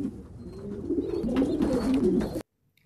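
Pigeons at a loft holding homing and meat birds coo loudly and close, a rolling run of throaty calls that stops abruptly into silence.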